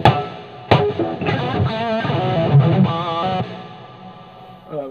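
A distorted electric guitar played through a cranked-up Randall amp with TH2 patches on a JEM clone, a few ringing strummed chords and sustained notes with some noise, then decaying toward silence.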